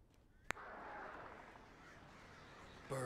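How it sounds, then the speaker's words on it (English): Crows caw in the Alan Wake video game: a sharp loud call near the start, then a steady ambient wash, with a louder tonal sound entering at the end. "Birds."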